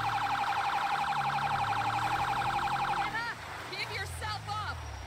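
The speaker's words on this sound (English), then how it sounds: "Turn on our sirens and lights." A police car siren from the GTA 5 game wails loud and close in rapid rhythmic cycles for about three seconds, then cuts off and leaves the car's engine running with short chirps.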